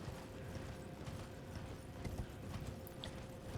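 Horse hooves gallop in a steady, rapid clip-clop rhythm inside the Elden Ring video game, heard close and fairly loud and continuous, with no talking over them.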